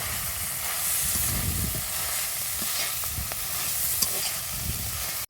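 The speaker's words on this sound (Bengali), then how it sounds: "এবার মাছগুলো ভেজে নেওয়ার জন্য তেলে দিয়ে দিছে।" Small shrimp frying in hot oil in a pan for a bottle gourd chorchori, giving a steady, close, dense sizzle with occasional clinks from stirring throughout.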